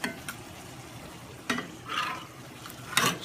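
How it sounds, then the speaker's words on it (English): Pasta sauce with tomatoes being stirred in a pan by a child, faint scrapes and clinks of the spoon against the pan coming in short bursts over a soft background hiss. "Alright, stir that up, Henry."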